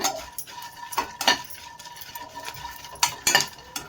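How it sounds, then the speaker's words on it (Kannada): Tamarind being fried and stirred in a pan with bitter gourd for an Andhra-style recipe, with a soft sizzle under sharp intermittent clinks and scrapes of a spoon against the pan. "ಈಗ ಒಂದು ಸ್ವಲ್ಪ ಹುಣಸೆಹಣ್ಣು ಅದರಲ್ಲೇ ಫ್ರೈ ಮಾಡ್ಕೊಳ್ಳೋಣ."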